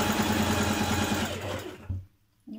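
A sewing machine stitches a dress seam with a fast, steady, close whirr, slows and stops, then starts again briefly after a short pause.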